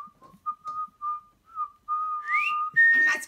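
A chicken puppet's voice, a person whistling: a run of short clear whistled notes, then a longer tone that slides upward and holds, close and fairly loud with brief pauses between phrases.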